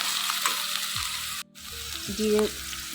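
Onion paste goes into hot oil in a pan for a potato, tomato and tengra fish curry. It sets off a loud, steady sizzle with a brief drop partway through, then the frying swells again.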